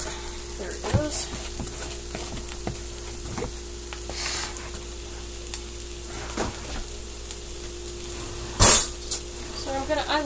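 Garlic sizzling in a frying pan while a scrambled Greek quiche breakfast cooks, with a steady soft hiss, occasional scraping stirs and clinks, and a sharp louder clatter near the end.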